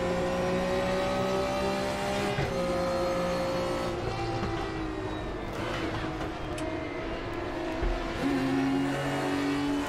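BMW M1 Procar engine idling at low revs in a racing sim, a steady, close droning hum with layered tonal harmonics, a slight shift in pitch partway through, heard alone without talk.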